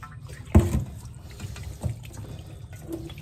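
Water splashes briefly from a tap as black pompano fish are washed. One louder splash comes first, followed by a softer one and then quiet trickling.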